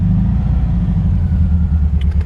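A 1978 VW Super Beetle Convertible engine running right after firing up, a loud, steady low rumble that stays close and even from start to finish, with a few faint clicks near the end.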